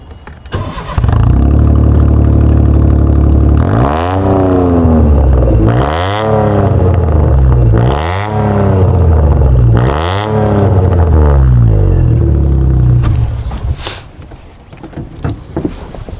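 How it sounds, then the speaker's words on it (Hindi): A modified Maruti 800 with a muffled lead exhaust revs repeatedly, four or five loud, deep surges rising and falling in close succession before settling back to idle. "जैसे मैंने एग्जॉस्ट की बात करी थी तो एग्जॉस्ट नोट भी सुनाई था"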